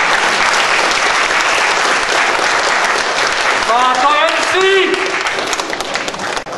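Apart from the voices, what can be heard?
concert audience applause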